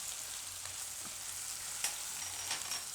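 Grated ginger and spices frying in hot oil for a Gujarati bottle gourd and gram flour curry, a soft, steady background sizzle with a few faint clicks, fairly quiet and distant, without any voices.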